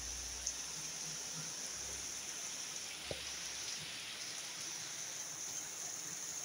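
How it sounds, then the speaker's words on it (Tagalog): Steady, dense hiss of heavy rain in Antipolo pours continuously, with faint occasional knocks underneath; a constant wash of falling water with no pauses. "Lakas ulan"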